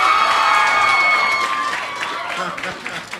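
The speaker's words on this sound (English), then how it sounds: "If you like the original hair, a round of applause." At a Nerd HQ 2011 fan panel, a packed audience applauds and cheers with high-pitched screams and whistles, holding a loud, full wash of clapping that tapers slightly near the end.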